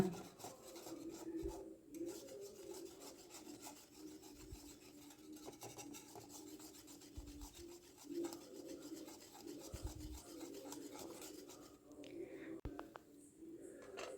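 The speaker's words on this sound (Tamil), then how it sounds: "கை விடாமல் நல்லா கிண்டிகிட்டே இருக்கணுங்க இல்லைன்னா அடி பிடிச்சிருவோம்" Milk thickening into palkova sweet in a pan is stirred continuously, giving a soft, steady scraping and rubbing of the spoon against the pan bottom, faint and close, with occasional small knocks.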